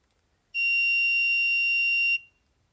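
Multimeter continuity buzzer sounding in buzzer mode with the rotary switch set, a single loud, steady high-pitched tone lasting about one and a half seconds before cutting off, alone in a quiet room.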